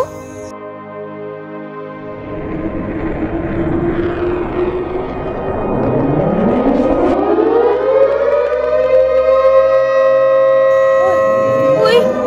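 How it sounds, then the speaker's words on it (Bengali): An air raid siren wails close and loud, its tone sweeping upward and then holding a sustained howl, with faint voices briefly underneath. "ওই আবার সাইরেন বাজলো। এক্ষুনি আক্রমণ হবে, বোমা পড়বে।"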